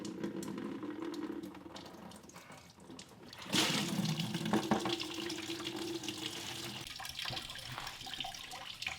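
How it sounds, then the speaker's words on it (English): Water pours and drains steadily out through weep holes and a drain after a plug is pulled, a continuous splashing trickle that swells louder partway through and carries on alone. "So it's draining out, and all of that water that's draining out there, that's all coming through the weep holes."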